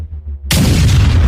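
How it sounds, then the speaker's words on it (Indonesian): An explosion sound effect bursts in suddenly after a quiet half-second lead-in, then a loud, dense roar holds to the end. "Ledakan mengguncang ruangan"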